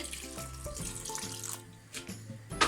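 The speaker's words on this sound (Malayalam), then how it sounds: "അപ്പോൾ വെള്ളം ഞാൻ ഒഴിച്ചു കൊടുക്കുന്നുണ്ട്" Water pours and gurgles into a pot of coconut-roasted sambar in uneven bursts, with a brief pause and a splashy rush near the end; no talking.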